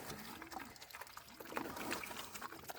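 Warm water trickles and splashes in a soft, continuous pour into pig feed, with faint rustling and an occasional quiet grunt from Vietnamese pigs in the background.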